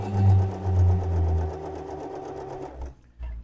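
Sewing machine stitching a buttonhole zigzag on a black safari shirt, a fast steady mechanical whir that runs close and alone for nearly three seconds, then stops with a couple of brief clunks.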